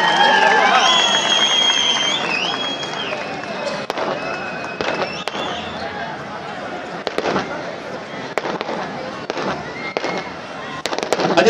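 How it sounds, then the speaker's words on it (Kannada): At a public event welcoming Chief Minister H. D. Kumaraswamy in Arsikere, a large crowd claps and cheers while sharp firecracker bangs pop throughout and an amplified voice speaks over the noise. "ಪ್ರೀತಿ ಅಭಿಮಾನದ ದೊಡ್ಡ ಚಪ್ಪಾಳೆ ಮೂಲಕ ಸ್ವಾಗತವನ್ನ ಕೋರೋಣ"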